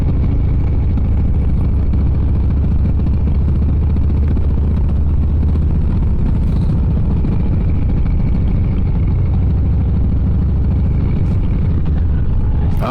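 Steady roaring wind rush from riding a 2023 Harley-Davidson Low Rider S with the helmet visor cracked open, continuous and loud, with the low engine drone underneath and no letup.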